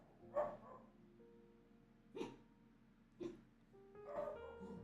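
A dog barks four times at uneven intervals, faint and somewhat distant, over a quiet background hum.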